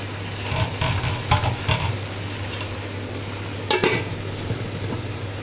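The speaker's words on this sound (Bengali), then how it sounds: "মাছটা যাতে ভালোভাবে কষানো হয়, নেড়ে চেড়ে ভালোভাবে" Rohu and catla fish heads stir-fried in a pan, a continuous loud sizzle with a low steady hum beneath and several sharp spatula scrapes and knocks against the pan; no speech.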